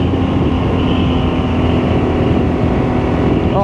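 A BMW R12S motorcycle engine droning steadily while riding, a loud, continuous close-up engine roar mixed with wind rush and no talk.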